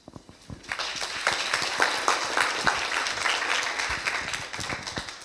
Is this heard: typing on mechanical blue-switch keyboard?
no